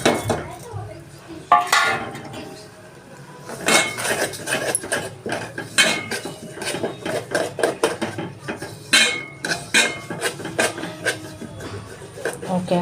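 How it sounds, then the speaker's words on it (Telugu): Sesame seeds fried in ghee being stirred into hot jaggery syrup for sesame chikki, with repeated clinks and scrapes of a utensil against the pan in an irregular rhythm, sounding close and moderately loud. "ఇప్పుడు మనము వేయించుకున్నటువంటి నేతిలో నువ్వులను దీంట్లో వేద్దాము. వేసి బాగా కలుపుకోవాలి."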